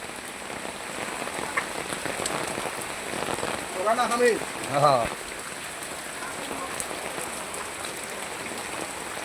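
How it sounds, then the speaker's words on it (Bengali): Heavy rain falls in a steady, dense patter on nearby surfaces throughout, with a person briefly speaking over it midway. "দেখেন বন্ধুরা কি পরিমাণ বৃষ্টি হচ্ছে"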